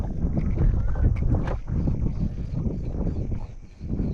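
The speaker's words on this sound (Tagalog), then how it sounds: "Medyo mahangin na, umaga pa." Gusty morning wind on the water while fishing buffets the microphone with a loud, low rumble that swells and dips, briefly easing near the end.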